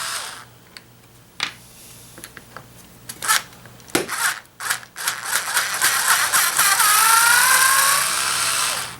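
A battery chainsaw is started and run: scattered clicks and short whirring bursts build into a sustained motor whine at the end, close up, with no voices.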